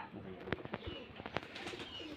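Giribaz pigeons coo softly nearby amid scattered clicks and rustles, several low rounded calls spread across the moment.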